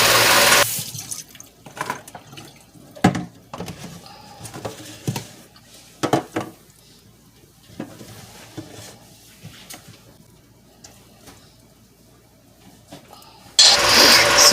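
Canned jackfruit rinsed and drained in a kitchen sink, running water bursting on and off with splashes, clinks and knocks of handling, ending in a strong continuous gush from the tap.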